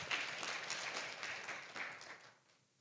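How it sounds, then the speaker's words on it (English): Audience applause at a Kenya National Library Service National Reading Day event, a dense steady clatter of many hands clapping for close to three seconds before fading away, with no talk over it. "Let's give a hearty clap to Mr. Onassis Ndegwa"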